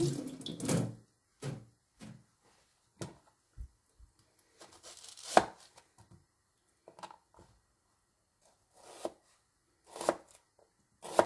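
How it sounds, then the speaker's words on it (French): Knife chopping an onion on a board for a broccoli gratin, heard as scattered sharp knocks and cuts separated by quiet gaps, with some faint running-water and kitchen sounds and no talking. "Donc, on va couper notre oignon."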